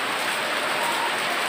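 Steady rain pours during Typhoon Odette in Laguindingan, Misamis Oriental, a dense, loud, continuous hiss of drops on surfaces with no voices over it.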